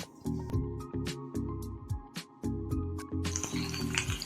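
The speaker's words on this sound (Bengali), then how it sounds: "আমি হচ্ছে গিয়ে পটলটাকে ভাজা বসিয়েছি" Pointed gourd (potol) fries in a pan as steady sizzling runs beneath repeated nearby clinks and scrapes of a utensil against the pan, in an irregular rhythm.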